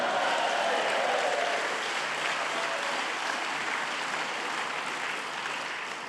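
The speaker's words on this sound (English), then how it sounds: "I will pause for your spontaneous applause" Sustained audience applause at a literary seminar in Key West for humorist Dave Barry, a dense, loud wash of many hands clapping that slowly thins toward the end.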